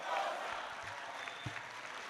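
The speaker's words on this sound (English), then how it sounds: "A resounding round of applause for our guest lecturer" An audience at a university pre-convocation lecture applauds a guest lecturer, a soft, dense, steady wash of clapping in a large hall, heard at a distance with a few louder claps standing out.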